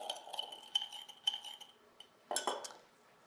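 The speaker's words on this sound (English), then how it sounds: "Mix the Tia Maria and the sugar together." A metal teaspoon stirs Tia Maria and sugar in a cup, clinking and scraping against the sides in quick, light taps and swirls, close up and quiet with no voices.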